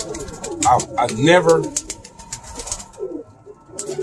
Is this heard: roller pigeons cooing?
yes